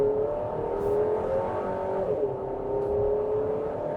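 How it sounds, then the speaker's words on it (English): A Buick Enclave's 2.5 liter turbo engine pulls up to highway speed, a steady rising drone heard from inside the cabin with road noise beneath, moderately loud and continuous. "So let's get back up to highway speed here"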